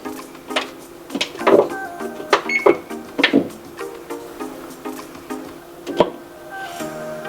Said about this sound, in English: Now what we're gonna do is set our oven to bake as high as it can get.